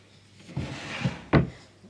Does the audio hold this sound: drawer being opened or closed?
yes